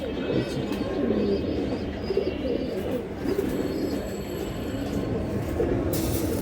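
Pigeons for sale, including silver Giribaz and Gola breeds, coo and flutter steadily close by in a busy market, with a continuous low murmur of crowd and traffic underneath.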